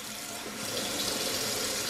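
Cold water runs from a kitchen tap into a small pot holding eggs, a steady loud splashing gush that continues without pause, no voices over it.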